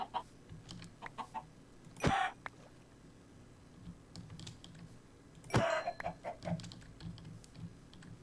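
Minecraft chickens give two sharp, clucking squawks several seconds apart, heard up close over soft keyboard tapping and a low background hum.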